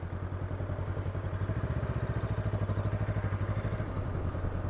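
A motorcycle engine idles and pulses steadily close by with a low, rhythmic chug as the bike creeps through a tight slow-speed turn from a stop, throttle eased on gently.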